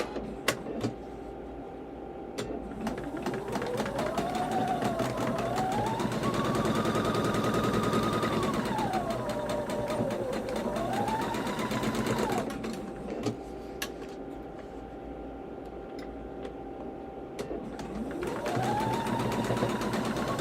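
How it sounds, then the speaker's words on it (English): A sewing machine stitches quilt block pieces in long continuous runs, its motor whirring up and down in pitch with a rapid needle chatter, close and loud with brief pauses between seams. "And now we're ready to sew these two pieces."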